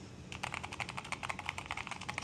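Steady keystrokes on a SteelSeries Apex Pro full-size keyboard, a quick irregular run of crisp clicky taps heard up close with no voices.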